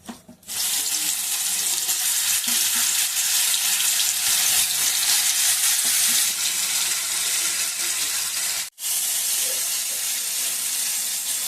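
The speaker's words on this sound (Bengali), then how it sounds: "এবার দেখুন তেল গরম হয়ে গেছে এখন আমি দিয়ে দেব একটা একটা করে ছেড়ে দেব" Chicken pakora deep-fries in hot oil with a loud, dense, continuous hiss that cuts out briefly once near the end, then resumes.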